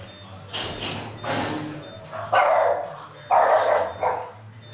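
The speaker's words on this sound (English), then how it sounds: "That's a dog in the other room." A dog barks several times in irregular bursts, muffled and somewhat distant, as if from another room.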